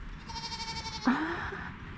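A young goat on a natural livestock farm in Germany gives one clear, wavering bleat partway through, preceded by a steady tonal drone over faint outdoor background noise.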